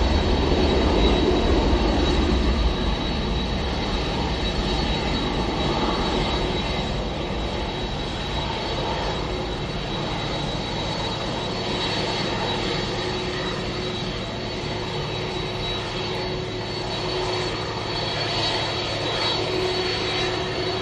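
A Ryanair jet airliner departing, heard as a loud, sustained engine roar with a steady whine, strongest at the start and then holding as a broad rumble, with no talking.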